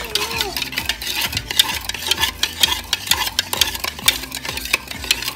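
Spoon stirring a mixture for mango and strawberry pop rings, with steady scraping and swishing strokes repeating in a quick rhythm, close and moderately loud, with no talking.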